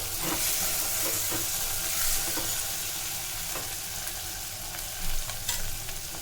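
Steady oil sizzling and crackling of eggplant frying in a pan, with occasional stirring scrapes, continuous and fairly close.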